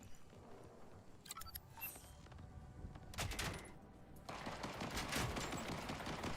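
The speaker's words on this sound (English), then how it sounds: "Can y'all stop shooting at me? Who's shooting at me?" Gunfire in Borderlands 4: scattered bursts of shots and rapid automatic fire, faint at first, then thickening into a steady, busier stream of shooting over the last few seconds.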